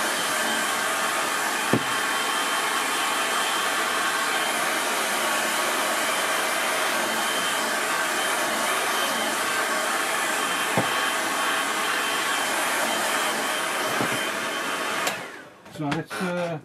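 A hair dryer blows steadily and loudly for about fifteen seconds over a watercolour landscape painting of a view towards Ullswater, then cuts off abruptly near the end with a few faint handling noises.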